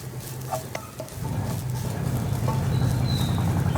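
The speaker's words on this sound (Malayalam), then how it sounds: "തേങ്ങയും കൂടി ചേർത്ത് നന്നായിട്ട് ഇളക്കി മിക്സ് ചെയ്യാം" Grated coconut being stirred into drumstick-leaf thoran in a pan over a low flame, a soft steady sizzle with light scraping and tapping of the spoon.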